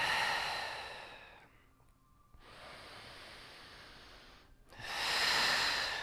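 Slow, audible breaths during a seated yoga twist, each long airy inhale or exhale separated by a short quiet gap, soft and close, with no talking.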